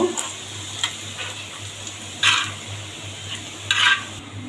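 Fried garlic and onion ground on a stone slab for a pointed gourd bhorta, with soft, intermittent scraping strokes and two louder, rougher grinding bursts near the end. No one talks.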